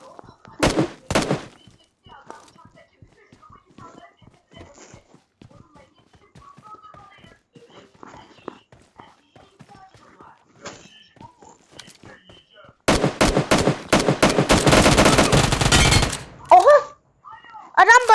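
Gunfire in the mobile game PUBG Mobile: a couple of sharp shots early, scattered footsteps and small taps, then a long loud burst of rapid automatic fire near the end, with some talking in between.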